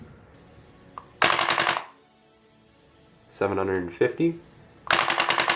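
Automatic gun firing short full-auto bursts in a video game, two loud rapid rattling strings of shots with a silent gap between, and someone speaking briefly in the middle.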